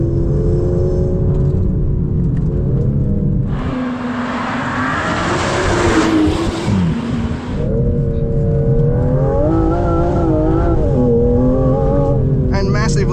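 A 2025 Aston Martin Vanquish on a test drive: a strong engine note rises and falls with shifting revs, and a surge of wind and road roar builds for a few seconds midway while someone talks over it.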